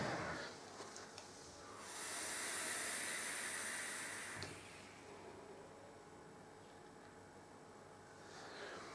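A Mutation X V4S rebuildable dripping atomizer fired on bottom airflow gives a steady airy hiss that swells for a couple of seconds mid-clip and then fades, with no talking over it.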